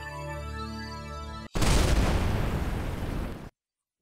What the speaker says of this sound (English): The ship is about to explode any second now